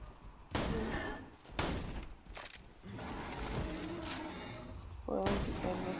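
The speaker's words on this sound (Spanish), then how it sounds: "le voy a disparar desde aquí" Repeated gunshots from a weapon in the video game Borderlands 2, with several loud sharp blasts spaced a second or so apart over a steady background of game noise.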